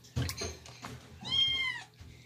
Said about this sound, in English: Get the kitten!